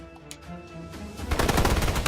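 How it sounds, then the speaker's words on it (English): Gunfire from the shooter video game Snowbreak: Containment Zone, with a few scattered shots giving way to a dense, loud burst of rapid automatic fire over open plains. "Gunfire ripped through the calm plains."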